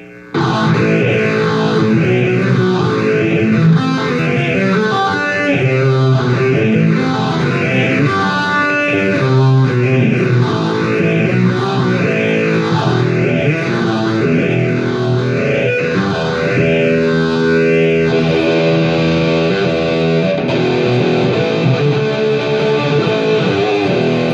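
A distorted electric guitar played through a Yamaha THR10X amp model plays continuously with a swirling, modulated effect and reverb, loud and sustained, shifting tone partway through.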